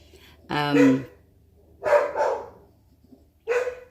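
Neighbor's dogs barking in a few separate bursts, fairly close and loud, with quiet gaps between them; no talking over the barks.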